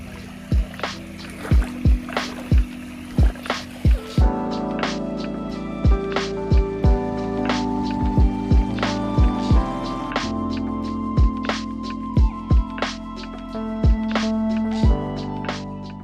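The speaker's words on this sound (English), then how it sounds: "As you can hear in the background, the water sounding." Water trickles and splashes through an Aquascape ecosystem pond set among rocks, with irregular close drips and plops over a continuous soft flowing background.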